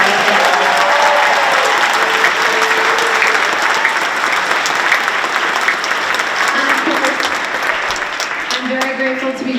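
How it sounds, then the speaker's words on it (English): A crowd applauds steadily and loudly throughout at a kindergarten to third grade school concert, broad clapping sustained for several seconds while a voice speaks intermittently beneath it. "Can we have one round of applause please for all of them?"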